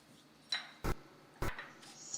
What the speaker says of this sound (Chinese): 现在我把它再放回烤箱